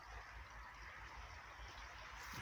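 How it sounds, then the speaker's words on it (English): Shallow running water in a stream only a couple of inches deep in Nottinghamshire water meadows, a faint, steady broadband rush and trickle without pause. "the sound of this running water"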